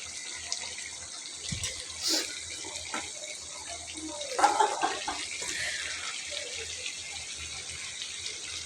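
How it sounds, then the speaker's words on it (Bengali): Water poured from a tap or jug into duck and chicken meat being braised in a pan, a steady running splash throughout with brief clatters and sizzle underneath, fairly quiet and alone. "মাংসটা যখন কষানো হবে তারপর আমরা হালকা একটু জল দেব।"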